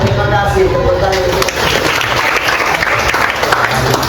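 Applause from a class of students fills the room, dense and steady clapping that carries on throughout, with some voices mixed in beneath it.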